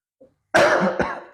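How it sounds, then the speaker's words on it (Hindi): A single harsh cough from someone with a days-long cough bursts out close by, with a brief throaty catch at the end, after a faint sound and a short silence. "खांसी लगा हुआ है"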